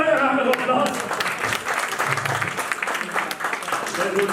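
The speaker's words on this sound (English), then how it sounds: "So give her a round of applause." Applause at a banking quiz semi-final for a contestant, a moderate crowd clapping steadily over a few seconds, with a voice talking over it.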